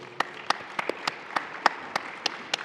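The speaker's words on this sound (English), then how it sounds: "can we have a massive round of applause, please?" Sparse scattered claps from a small audience at an urban destination conference, about ten distinct slaps spread at uneven intervals over a faint room hum, with no talk.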